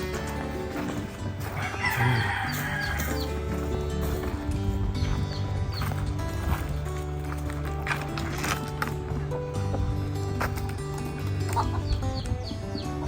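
Chickens cluck and murmur nearby in a steady, scattered chorus, with a rooster crowing faintly among them.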